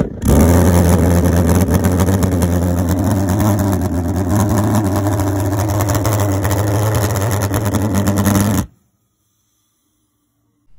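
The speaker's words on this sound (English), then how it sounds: "This is my best attempt at making this type of pulse jet." Homemade valveless pulsejet built from a hairspray can with a long copper pipe, burning rubbing alcohol, roaring with a loud, steady buzzing drone for about eight seconds before cutting off abruptly into silence.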